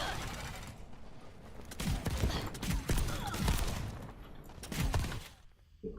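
Bursts of gunfire ring out in the Overwatch 2 firing range video game, a series of rapid sharp shots clustered in the middle, fairly faint overall with a quieter lead-in and tail.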